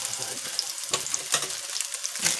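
Vegan ground sizzles in plenty of hot oil in a pan with a close, steady bright hiss, broken by a few scraping stirs and sharp crackling pops.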